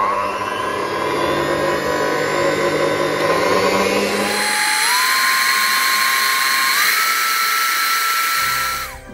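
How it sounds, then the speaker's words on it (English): Electric hand whisk beating eggs with vanilla extract in a bowl for muffin batter, a steady close high-pitched motor whine that shifts speed midway and cuts off at the end. "now we want to add our vanilla extract. And we whisk again."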